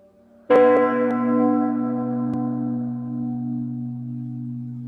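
A single bell sound effect marking the end of a show strikes once sharply, then rings on with a long, slowly fading hum, heard alone.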